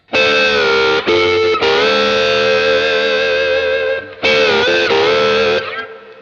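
Distorted electric slide guitar playing sustained two-note chords that glide between pitches, with brief breaks, loud and close.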